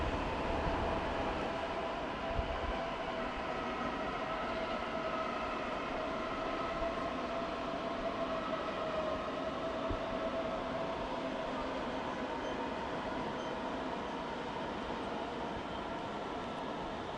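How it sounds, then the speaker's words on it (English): ICE high-speed train approaching München Hbf, a steady, fairly loud rolling rumble with a faint hum running throughout, continuous and even with no pauses, in a busy station setting. "That ICE train did not get very far."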